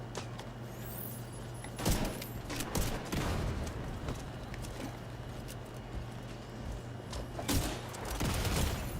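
Gunfire and grenade launcher shots ring out in The Division 2, with sharp shots and heavy blasts breaking through a continuous hum of combat at irregular moments.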